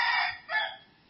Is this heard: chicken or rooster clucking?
yes